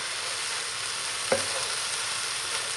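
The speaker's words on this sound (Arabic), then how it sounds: "انا هنا دابا غادي نشحرو" Food sautéing in a pan for a Moroccan home-cooked rice dish gives a steady close hiss and crackle of frying throughout, with one brief clink of stirring midway and no talking.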